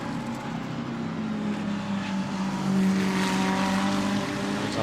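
A GT3 race car at the Spa 24 Hours circuit powers up the run toward Blanchimont, its engine drone rising steadily in pitch, loud and continuous from start to finish.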